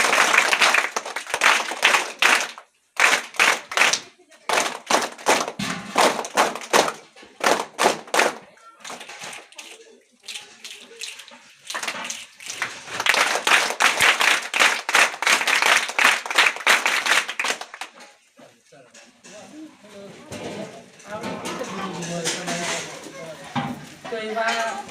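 A group of schoolchildren clapping in rapid bursts of applause at a school outing, loud and close, with pauses between rounds and a voice talking in the later part.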